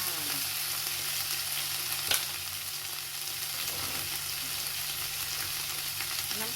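Kale and canned fish stir-frying in a hot pan, a steady, dense sizzle and crackle running throughout with a faint scrape of a utensil, close and unbroken by talk.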